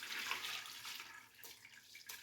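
Whey from paneer curds drains through a cheesecloth-lined colander into a bowl, making a soft, continuous watery trickle and splatter with a few brief surges near the end.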